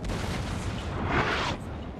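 Cannon fire in the Napoleon Total War land battle at Waterloo, a continuous rumbling barrage of artillery booms with a swell of louder blasts near the middle, dense and steady with no clear pauses.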